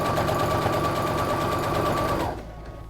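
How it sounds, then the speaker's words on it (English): A sewing machine stitches along the fold of a cooling cot liner, a fast, steady, close mechanical whirr that stops abruptly near the end. "as you sew, you can remove the pins"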